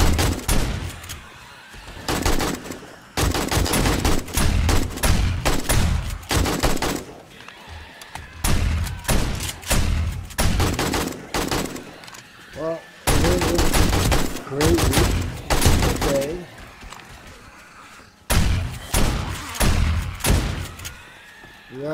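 SMG turrets in a video game fire long, rapid automatic bursts again and again, loud and close, broken by short pauses and mixed with occasional talk.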